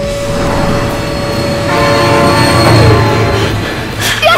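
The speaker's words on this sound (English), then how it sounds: "Oh my god, train!" Train passing in BeamNG.Drive, a loud rumbling rail roll with a sustained horn-like tone, brief and close, with no talk.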